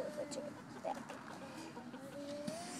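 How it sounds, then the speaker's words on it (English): A Polish hen clucks softly in short, quiet bursts against low background noise, with no voices. "So our Polish chicken, Fancy Nancy, has perched on the back of our Leonberger"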